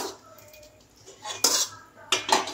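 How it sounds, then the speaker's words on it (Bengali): Meat going into a pressure cooker in a home kitchen, heard as a few sharp metallic clanks and scrapes of utensils against the pot over a quiet background. "মা দেখো মাংস কুকারের মধ্যে দিয়ে দিচ্ছে"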